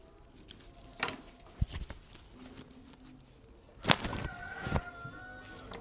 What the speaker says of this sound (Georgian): მამალიც გადაირია.